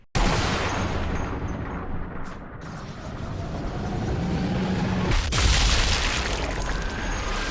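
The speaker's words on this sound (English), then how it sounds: "Plenty of soldiers and snipers are gonna hear that shot for miles." Sniper rifle fire in a World War II video game: loud, sustained booming gunfire with a sharp crack near the start and another heavy blast around the middle, rumbling on throughout with no talk.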